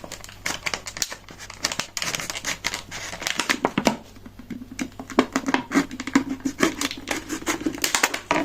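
Close, busy crinkling and crackling of stiff plastic being cut with a knife and then scissors, with choppy snipping and scraping that continues steadily throughout.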